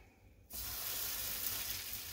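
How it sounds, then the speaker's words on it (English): A beet and walnut burger patty hits a hot pan at a cooking demo, breaking into a loud, steady sizzle after half a second of quiet and holding a dense, even hiss to the end. "Here we go. Nice sizzle right off the hop."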